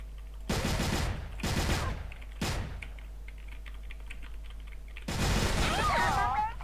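Rapid automatic gunfire in the video game CrossFire comes in long, loud sustained bursts with a short pause between them, then a final extended volley.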